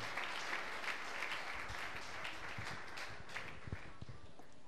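A church congregation applauds during a worship service, a dense, steady roar of many hands clapping that holds at full strength for several seconds.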